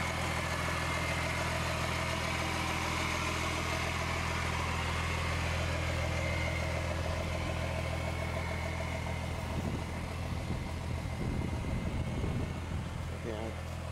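A 1992 Dodge 250 pickup's Cummins diesel runs at a steady idle, a continuous low rumble with a deep hum throughout and some rattling toward the end.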